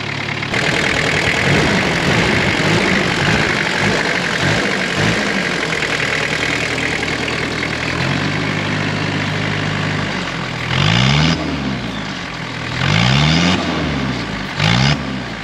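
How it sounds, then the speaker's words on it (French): Toyota LJ70 engine fitted with a glasspack exhaust, idling steadily and loud at close range, then given several short light blips of throttle that rise and fall, with no talking over it. "Alors Robin il va mettre des tout petits coups de gaz et vous allez voir qu'il y a toute la ligne qui travaille."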